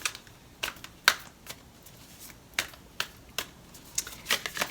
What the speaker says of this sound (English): I am going to go ahead and pull some oracle cards for you